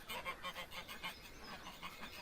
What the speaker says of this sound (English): And just here, we have our geese.